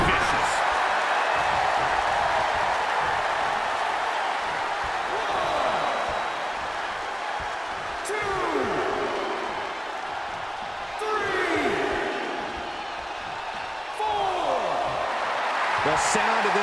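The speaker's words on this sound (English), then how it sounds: "The sound of this crowd is deafening, and he's asking for more." Arena crowd noise in the WWE 2K22 wrestling game, a continuous roaring wash of cheering that swells and dips under a commentator's voice, with occasional sharp impacts cutting through.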